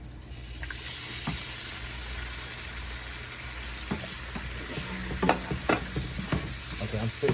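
Diced tomatoes get stirred into a hot frying pan, giving a steady frying sizzle under repeated scraping and clacking of a utensil. The scraping grows busier toward the end.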